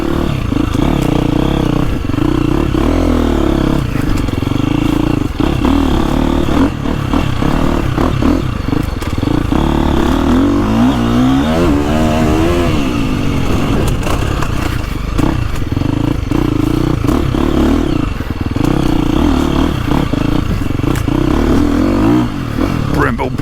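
A 2025 KTM 350XCF Factory Edition or 2025 Gas Gas MC300 dirt bike ridden on a tight woods loop with switchbacks, engine loud and close throughout, revving up and down with clattering over the terrain.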